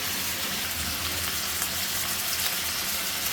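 Dried loitta fish (shutki) fries with turmeric, chili, coriander and cumin powder in a pan, giving a close, even, hissing sizzle that fills the moment without pause and without talk.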